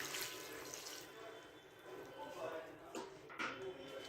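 Water pours into a pot holding jaggery, about half as much as the 500 grams of jaggery, a steady splashing trickle at low level with a voice talking over it.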